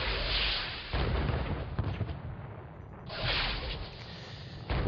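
Artillery fire booms in the Panzer Battles North Africa 1941 war game, heavy explosive blasts and rumbling bursts following one another over a few seconds, loud and close.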